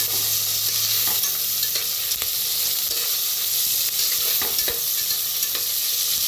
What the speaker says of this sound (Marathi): आता कापून घेतलेला कांदा करून घेऊया भाजून